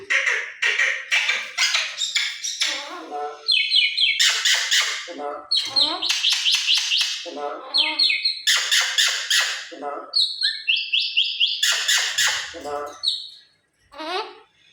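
A parrot squawks loudly and repeatedly at close range, harsh shrill calls coming in bursts with short pauses between them.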